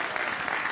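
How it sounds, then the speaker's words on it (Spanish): An audience applauds at a televised interview, a dense, steady wash of clapping from many hands, fairly loud and continuous through the short moment. "Fuerte el aplauso, señoras y señores."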